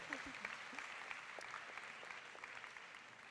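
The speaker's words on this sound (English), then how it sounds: "I think we need applause here." Applause from an audience at a grand opening ceremony, faint and distant, a soft patter of clapping that holds steady throughout.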